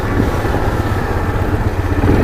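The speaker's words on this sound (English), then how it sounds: "here's that engine braking" A Yamaha Kodiak 450 EPS ATV engine braking in high gear on a trail, a loud, steady low rumble of the engine that drones close up without a break.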